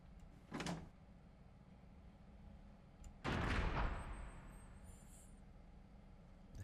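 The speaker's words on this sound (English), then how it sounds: "There's a sound of metal rubbing on metal." A heavy metal door in the Kira Kira visual novel grinds open with a loud scrape of metal on metal, preceded by a shorter knock-like clunk, over a low steady hum.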